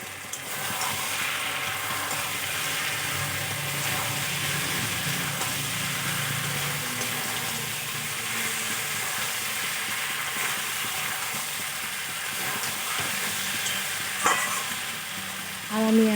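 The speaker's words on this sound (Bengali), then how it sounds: "চিংড়ি মাছগুলো দিয়েও ভালো করে মিশিয়ে কষিয়ে নেব।" Fried shrimp being stir-fried with fig (dumur) curry in a pan, a continuous close sizzle with scraping and stirring running steadily through the whole stretch, one sharper knock near the end, no voices.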